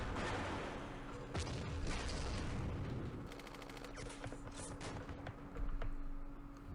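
Gunfire in the wargame Campaign Series Middle East: scattered distant shots and muffled booms with a short rapid burst in the middle, moderately faint over a steady background hum, no talk.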